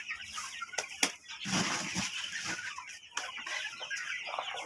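Hens cluck and squawk in a busy flock as they are fed grain by hand, with pigeons also near. Several birds call close by, with a brief wing flap, and there is no talk.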